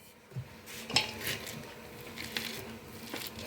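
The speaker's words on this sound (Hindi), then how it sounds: "तो इस तरीके से मैश कर लीजिए, बिल्कुल भी चंक्स नहीं रहेंगे मूंग दाल में" Cooked moong dal mashed in a pot with a wooden masher for barfi, soft thick squishing strokes and dull knocks against the vessel, close and fairly quiet, with no voices.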